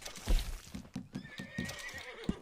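A horse in a video game gives a drawn-out whinny over clopping hooves and snorts, close and clear with no talking.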